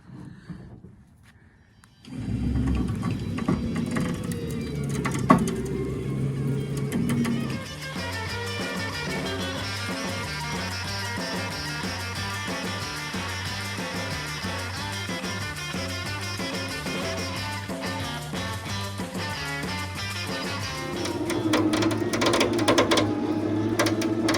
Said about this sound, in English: winches are the best